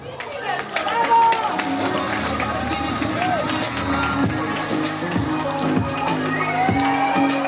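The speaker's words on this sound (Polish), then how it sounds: "Wielkie, wielkie brawa." An audience cheers and claps loudly at a lively event, with shouting children and crowd chatter mixed in, and music rising underneath.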